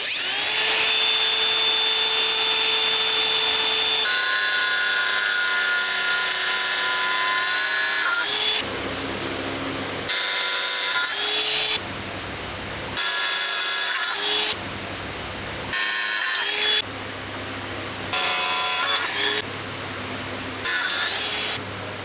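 Burrs being filed off cut metal pieces during a WWI trophy restoration in a workshop, with a long continuous grinding whine followed by regular repeated stroke-like bursts, loud and close, no talk.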